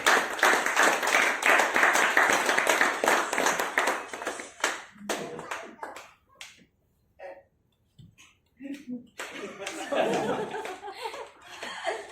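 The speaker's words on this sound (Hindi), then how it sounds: "जोरदार तालियां एक बार उनके लिए" Audience clapping and laughter at a group activity session, loud and dense for about five seconds before breaking into scattered claps and chuckles, then swelling again near the end.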